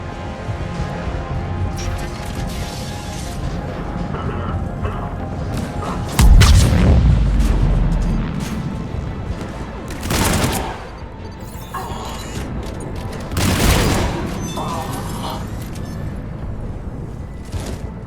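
Heavy booming cannon blasts and explosions in a video game punctuate a constant roar of battle, with several big impacts spaced a few seconds apart amid steady rumbling gunfire.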